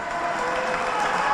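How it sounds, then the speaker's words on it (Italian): A home crowd applauds a departing player at a women's Serie A2 basketball game, Cus Cagliari against San Salvatore Selargius, with dense, steady clapping filling the arena and a commentator's voice underneath. "va così a godersi anche il meritato applauso del suo pubblico"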